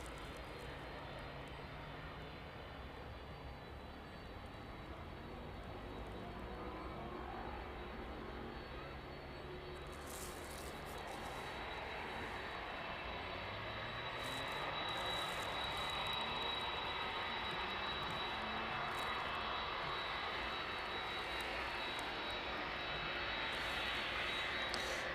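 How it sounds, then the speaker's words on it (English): A DHL Boeing 767 cargo jet departs East Midlands Airport in the evening, bound for Leipzig: a broad, distant engine roar that slowly grows louder and holds for the whole stretch. "DHL 767 off to Leipzig in front of us then this evening."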